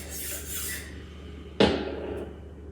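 A HORL 2 rolling sharpener worked along a Takamura knife of R2/SG2 steel, a soft rubbing grind followed by one sharp, close scraping stroke that fades out.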